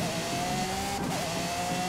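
A car drifts in Forza Horizon 5, its engine holding a steady high drone with a faint wavering pitch, continuous and fairly loud with no voices.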